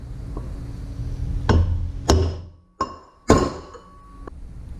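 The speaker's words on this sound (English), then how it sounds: "I just use the socket so that when I hit on it, it hits it evenly and pushes it straight" Sharp metallic clinks ring out as a hammer strikes a socket to drive a bearing race into a no-till drill, four distinct hits with short ringing tails over low background hum.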